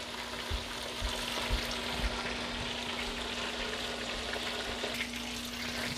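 Oxtail pieces brown in hot frying oil, a constant close sizzle and crackle with occasional soft bumps from the pan, and no talking.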